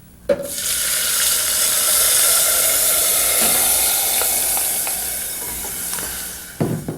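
Tomato purée hits a hot frying pan with a sharp onset, then a loud sustained sizzle that slowly fades, with a few stirring clicks and a clatter near the end.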